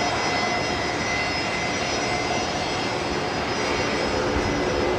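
An Air New Zealand airliner arriving at Brisbane Airport, a continuous loud roar of jet engines holding steady throughout with no voices.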